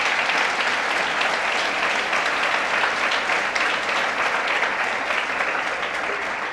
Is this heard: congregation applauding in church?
yes